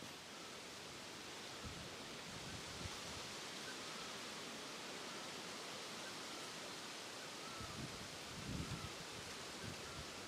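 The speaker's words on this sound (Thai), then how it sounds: "ผมส่องยอดไม้ให้ดูนะครับว่า ลมแรงยังไงนะครับ" Strong wind roaring steadily through treetops high on a mountain in cold season, a broad continuous rushing with occasional louder gusts and leaf rustle, close and alone without talk.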